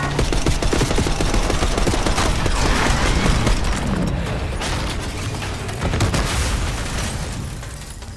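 Sustained heavy gunfire in Call of Duty Black Ops 6, with dense automatic bursts and booming explosions forming a loud, continuous barrage throughout.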